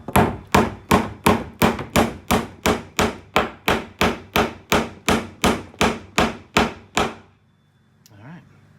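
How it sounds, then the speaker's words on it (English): A roofing hammer drives a wooden peg with about sixteen sharp, evenly spaced blows in a steady rhythm, loud and close, then stops, followed by a faint brief squeak. "So I'm gonna use a roofing hammer to get that peg in"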